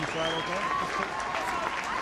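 Stadium crowd at a women's Six Nations rugby match, Ireland against Italy, applauding as injured player Alison Miller is taken off, a steady dense wash of clapping with a commentator talking over it.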